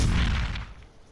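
A long-range weapon fires in the game Ark on PS4, one loud deep booming blast at the start that rolls off into a decaying rumble.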